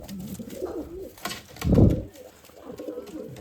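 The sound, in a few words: pigeons cooing in a loft cage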